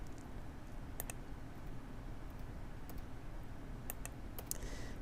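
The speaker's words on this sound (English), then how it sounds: "I can just hit delete on my keyboard or just do one at a time and delete, delete" Rapid single key presses on a computer keyboard, repeatedly hitting the delete key: crisp, faint clicks in irregular pairs and singles over a soft steady hiss, with no talking.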